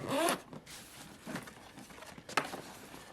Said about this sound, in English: we'll zip that up for right now